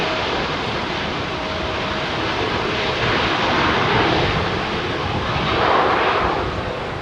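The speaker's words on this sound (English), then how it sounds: "Oh, that's a nice bit of reverser." An airliner landing at London Heathrow on runway 09L roars with heavy thrust reverser, a broad, sustained rumbling rush that swells and fades over several seconds from a moderate distance.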